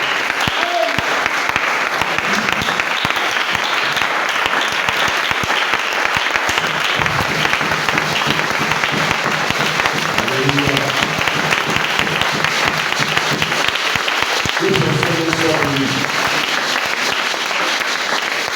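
A church congregation applauds and cheers continuously and loudly for the whole stretch, dense claps filling the space, with a few voices calling out over it.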